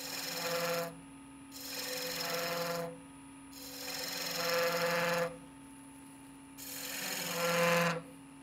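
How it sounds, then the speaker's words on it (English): A spindle detail gouge cuts a cove in wood turning on a lathe, giving four rasping scraping passes of about one to one and a half seconds each over a steady motor hum. "So I definitely am going to use my spindle detail gouge. Cut this cove from both sides."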